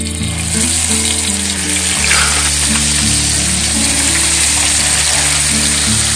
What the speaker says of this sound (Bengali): আমি এবার গিয়ে মাছটা ভেজে ফেলবো